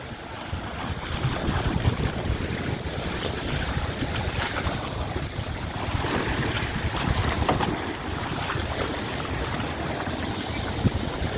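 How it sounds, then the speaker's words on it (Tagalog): Steady rush of rough water and wind around a small fishing boat in strong waves, with waves slapping and churning continuously and no voices. "Napakalakas ng alon."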